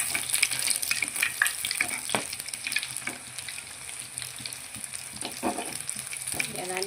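Chicken lollipops frying in hot oil on low heat, a close crackling sizzle with bursts of popping bubbles and occasional stirring clatter, steady throughout with no talk.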